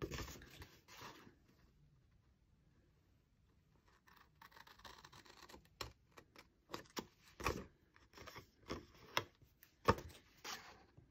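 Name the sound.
scissors cutting V shapes in paper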